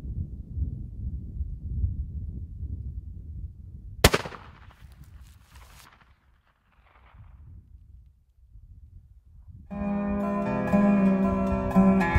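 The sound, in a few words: gunshot at a deer while hunting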